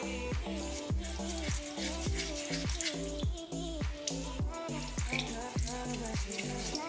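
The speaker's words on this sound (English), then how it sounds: "And then I run the water with this silicone cup that has holes in it." Tap water runs over a makeup brush being rinsed in a silicone cup with holes, a continuous splashing rush broken by repeated soft knocks and sloshes, close and quiet.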